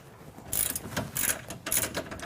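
A socket wrench with a 15mm deep socket ratchets in three quick bursts of clicking as it backs lock nuts off a Ford Mustang sway bar, close by and fairly quiet.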